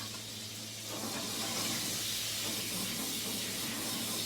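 Lemon juice sizzling in a hot pan with butter and fish, a steady, bright hiss that swells slightly after the first second and holds evenly.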